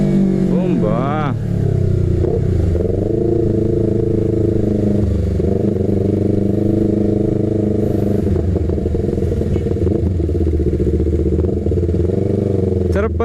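A Yamaha R3 motorcycle engine revs hard and continuously with rising and falling throttle pitch, loud and close throughout, with a rider's voice talking over it at times.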